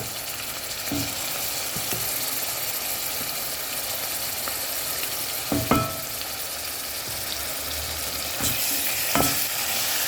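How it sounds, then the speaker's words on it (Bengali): Onion and garlic fry in oil in a pan, giving a steady, close sizzle throughout with a few sharp scrapes and clinks of a spatula, and no one speaking. "এই যে দেখুন পেঁয়াজ ভাজা ভাজা হয়ে গেছে এখন আমি রসুন দিয়ে দিব"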